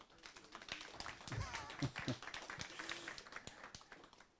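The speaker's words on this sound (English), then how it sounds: "we need to clap for Stewart, please." An audience claps after a presentation at an evening event, a short, fairly faint patter of hand claps mixed with scattered taps and murmuring voices.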